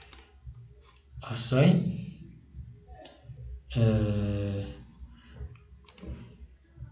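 Mouse clicks on a port in antenna design software for an SIW structure with CSRR, a few short clicks sitting under a man's speech.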